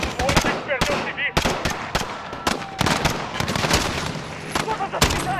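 Rapid automatic gunfire and scattered single shots from a Call of Duty: Modern Warfare battle in London's Piccadilly, dense and loud throughout with radio-style voices talking among the bursts.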